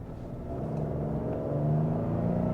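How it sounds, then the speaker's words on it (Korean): Ford Explorer PHEV engine waking up and revving while driving, a steady low hum that rises gradually in pitch and loudness, heard from inside the cabin with no talk. "이 엔진 깨어나는 깨어나면은 이 엔진의 회전 질감은 굉장히 좋습니다."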